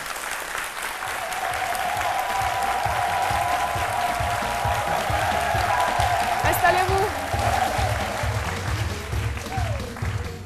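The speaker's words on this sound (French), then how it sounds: "Je vous demande de l'applaudir." A studio audience applauds a guest on a midday television talk show, sustained and fairly loud clapping across the whole stretch while a host speaks over it.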